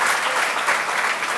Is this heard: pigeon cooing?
no